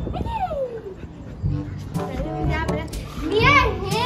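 A golden retriever plays with a ball, giving yips and whimpering sounds close by over a steady mix of voices and lively background noise, with a louder burst near the end.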